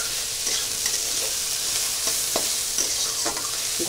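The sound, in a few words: onions and spices frying for egg curry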